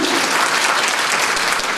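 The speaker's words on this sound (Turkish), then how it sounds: "Bir alkış alalım Mesut Keskin'e" Steady applause from a panel audience in a Linz hall fills the whole moment, dense and even, with no voices standing out.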